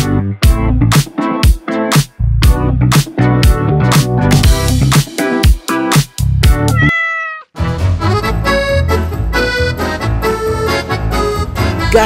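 A Bengal cat meows loudly and repeatedly up close, a rapid series of sharp, tonal cries with a brief pause before a longer run of drawn-out meows.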